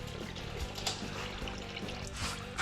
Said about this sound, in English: that's diesel fuel from the center part